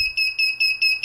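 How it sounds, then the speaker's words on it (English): Buzzer on an F200 race drone beeping in short, evenly spaced high-pitched pulses, loud and close, about five bursts in quick succession with no voices. "Hey, look, the buzzer works."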